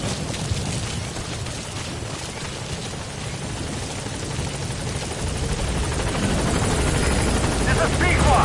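The Pequod helicopter arrives at a landing zone in Metal Gear Solid V, its loud rotor roar steady and close, growing slightly stronger toward the end as it settles on station.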